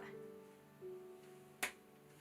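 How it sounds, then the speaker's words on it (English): A single sharp finger snap near the end, close and crisp, standing alone over a faint hum with no talk. "Snap."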